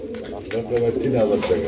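A male Soyabin-breed pigeon gives a short, close, low cooing call, heard alongside someone talking.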